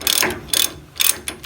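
A socket ratchet works a brake bolt on a 1962 VW Type 2 bus, giving four quick bursts of ratcheting clicks with short pauses between, close and fairly loud.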